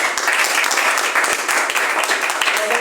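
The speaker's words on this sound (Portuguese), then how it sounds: "Palmas para Jesus." A church congregation claps together in a sustained burst of applause, dense and close, with some voices faintly mixed in beneath the clapping.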